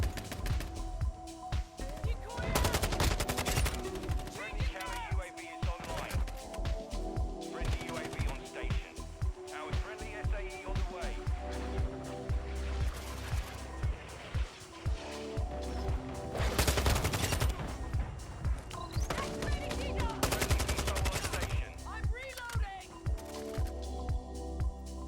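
Rapid SMG gunfire bursts from Call of Duty Warzone play continuously alongside other game effects, with a voice talking over the action.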